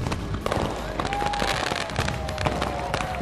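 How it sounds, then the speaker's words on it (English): A fireworks show at SeaWorld Orlando: dense, rapid crackling bursts and booms overlap continuously, with a rising whistle threading through the barrage. "There's still a fireworks show to enjoy."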